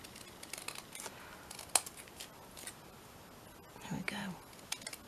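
Scissors snipping through paper ephemera, a few quiet, sharp cuts and a faint clink spread over a hushed, close background.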